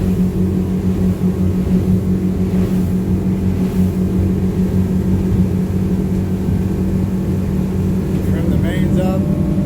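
The engines of a Duckworth Offshore 28 boat run at a steady, loud, unbroken drone as their RPMs are trimmed to match, with a voice talking over the noise.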